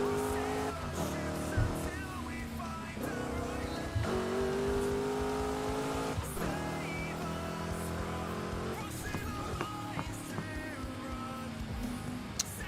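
A race car engine in the video game Need for Speed: Heat, revving steadily up through the gears with shifting pitch and occasional tire squeal, loud and close, with faint talk underneath.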